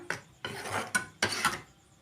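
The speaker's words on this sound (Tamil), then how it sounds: "நல்லா கலந்து விட்டுக்கலாம்." A utensil scrapes and stirs salted paneer masala gravy in a pan in several short strokes, up close, with no voices.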